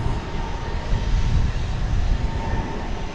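An ABX Air cargo jet operating for DHL rumbles while lining up at DFW Airport, a steady deep engine drone, loud and continuous with no breaks.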